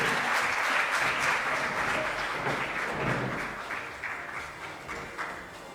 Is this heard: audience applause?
yes